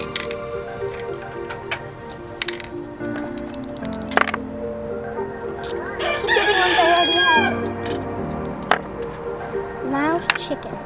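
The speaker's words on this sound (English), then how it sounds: "Loud chickens." Rooster crowing and chickens clucking in an outdoor colonial-era setting at Williamsburg, a drawn-out crow rising mid-clip over steady background murmur, with scattered clucks and sharp clicks; people talk nearby throughout.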